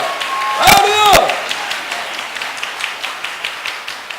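A church congregation claps during a worship service, a rhythmic run of hand claps following a loud voice calling out at the start, the applause moderately near and steady.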